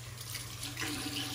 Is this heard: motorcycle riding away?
no